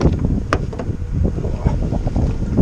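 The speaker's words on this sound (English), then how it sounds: "It's wind." Wind buffets the microphone outdoors beside a Mitsubishi Outlander PHEV after charging, a steady low rumble with gusty surges and a brief sharper crackle, with no talking.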